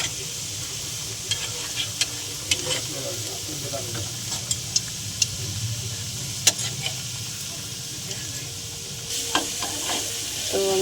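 Chicken and potato pakoras fry in hot oil in a pan with a steady close sizzle, punctuated by scattered clicks and scrapes of stirring.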